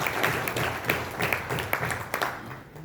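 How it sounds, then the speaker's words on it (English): Audience applause at a mutual fund launch event in India, a steady patter of hand clapping from a modest crowd, moderately loud and continuous, fading slightly at the end. "I think we can give a big round of applause to her."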